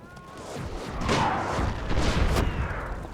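Cannon and artillery fire from a Napoleon: Total War battle, a dense, rumbling barrage of booms and cracks blending into continuous battlefield noise.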